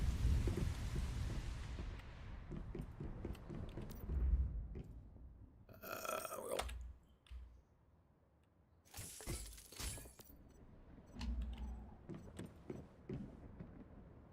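Rain patters steadily in the video game Once Human, broken by two loud crashing thunderclaps in the middle, with low rumbles and scattered game sounds; no one speaks.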